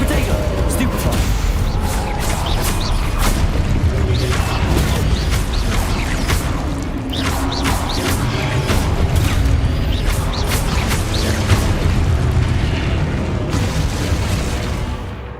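Stupefy spell blasts go off during a fight in Hogwarts Legacy, repeated sharp bursts and booms over a constant clattering, busy combat soundscape, with a voice talking now and then.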